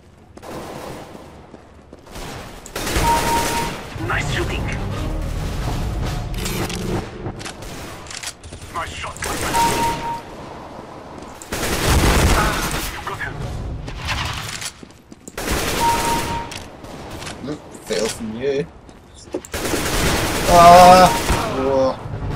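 Rapid bursts of automatic gunfire from the Counter-Strike shooter game crackle in loud repeated volleys, with sharper single shots between them and players talking over the firing.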